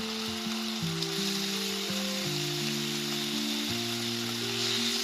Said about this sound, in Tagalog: At saka natin iprito yung minarinate natin karne kanina.